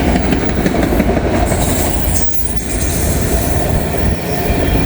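The M511 freight train, hauling a long string of auto racks, rolls past close by with a loud, continuous rumble of wheels and cars and faint squealing on the rails.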